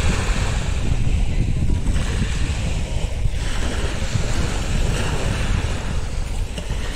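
Sea surf rolls and crashes steadily on a beach while strong wind buffets the microphone, a loud, continuous roar with no pauses.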